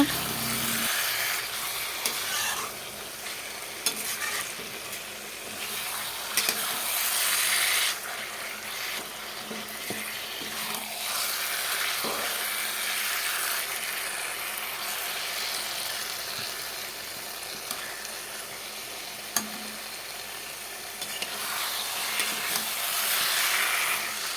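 Spice paste for katla fish curry sizzling and being stirred in a pan, a steady close hiss running throughout with occasional scraping knocks, no voices.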